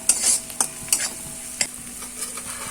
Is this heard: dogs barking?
no